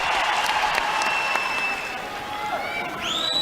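Crowd at an Australian Open tennis match between Novak Djokovic and Alex de Minaur cheers and applauds loudly and steadily throughout, a dense roar with whistles rising near the end.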